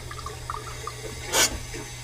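A short rush of water hisses through a reopened water heater valve on a Bradford White heater, rising briefly above a low steady hum before fading back down.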